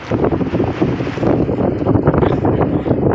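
Wind blows across an open rice field, buffeting the microphone in a loud, steady rumbling roar with gusty fluctuations throughout and no talk.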